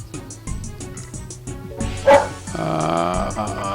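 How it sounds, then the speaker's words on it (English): A dog barks in a house a few times, fairly close and loud, with game music and sounds playing alongside it. "Dog's barking now."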